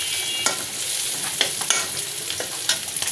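Onions sizzling and frying in a pan for a Bengali pabda fish curry, a steady hiss with scattered crackles and occasional sharper pops, close and continuous without any talking.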